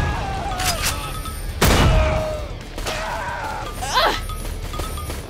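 Rapid bursts of gunfire from the Rise of the Triad video game, with a heavy crashing blast near the middle, game chatter and effects layered over it, loud and close.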